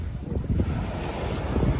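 Surf rushing and washing in with steady wind noise buffeting the microphone, a continuous low roar from nearby waves.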